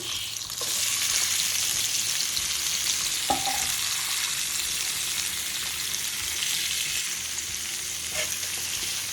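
Ingredients for Turkish-style grilled chicken with vegetables hit a hot pan and fry in a dense, loud, steady sizzle that carries on with little change, one brief clink near the middle and no voices.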